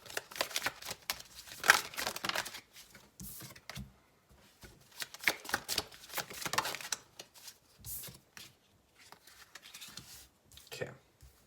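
A tarot card deck is shuffled in a quiet room, giving bursts of crisp riffling and papery flicking that come and go in uneven clusters, close and moderately soft, with no talking.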